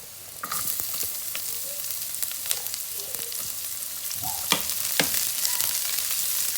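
Onions sizzle and fry in hot oil for a filipino ginisang repolyo, a steady crackling hiss with occasional stirring scrapes and pops, close and continuous with no talking.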